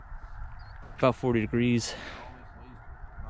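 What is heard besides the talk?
geese honking, speckle-bellied and snow geese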